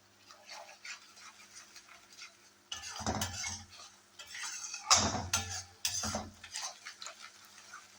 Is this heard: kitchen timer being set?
no